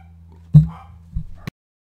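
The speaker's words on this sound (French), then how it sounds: "mon chien s'est mis à aboyer parce que le téléphone a sonné" A dog gives a short bark and a couple of softer yips or whimpers indoors after a phone rang, close and brief, ending abruptly in silence.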